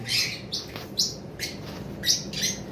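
Shrill, sharp calls of an adult male sun conure parrot repeat in quick bursts, about six piercing squawks with short gaps, fairly close against quiet background noise.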